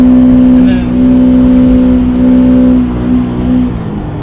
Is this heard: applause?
no